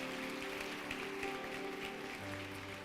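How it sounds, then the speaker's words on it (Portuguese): A church congregation clapping steadily together, a continuous wash of applause over sustained tones from a keyboard or organ. "Você pode aplaudir ao Senhor pela vida desse Cohen?"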